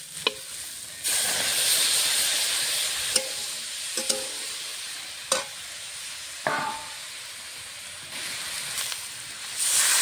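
Lightly fried vegetables with beans and peas sizzle in a pan as tomato goes in, bursts of loud hissing steam broken by sharp clanks of a spoon against the pan.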